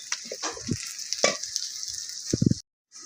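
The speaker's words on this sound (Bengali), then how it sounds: "মশলা দিয়ে এখন মিক্স নিচ্ছি এগুলো কষানো হয়ে গেলে তারপরে নারিকেল দিয়ে দিই" Turmeric spice masala being stirred and fried for a village-style egg curry: scraping stir strokes and soft sizzling bursts come close and fairly quiet, ending in a brief silence.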